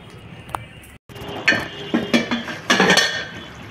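A lid is set onto a cooking pot of potato, ridge gourd and prawn curry, a brief metallic clatter and a few clinks close by after a quiet pause.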